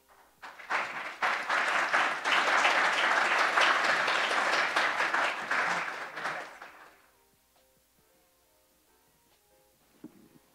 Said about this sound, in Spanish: moderado por la coronel Helen Leal González, a quien recibimos con un caluroso aplauso